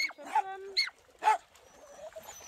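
A muddy terrier whimpers and whines in several short, high, tonal bursts spaced across a couple of seconds, fairly close, followed by quieter rustling.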